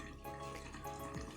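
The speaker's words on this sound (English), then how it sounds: "the first thing I do is to wash my plantain" Running tap water splashing over plantains being washed in a kitchen sink, a steady close stream with small drips and splashes.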